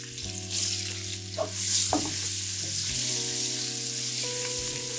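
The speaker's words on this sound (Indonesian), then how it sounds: "Tambah minyak masak sikit. Masuk bawang dan halia." Onion and ginger frying in margarine and cooking oil, a steady close sizzle with a few spoon clinks and stirring scrapes, with a low steady hum beneath.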